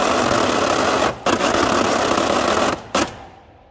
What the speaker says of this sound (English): the electric motor is engaged and drives the stretch rollers and feeds the film out